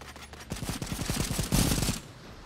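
Rapid automatic gunfire hits a creature in the video game Cepheus Protocol: a fast, evenly spaced burst lasting about a second and a half that ends in a louder flurry, with no talking.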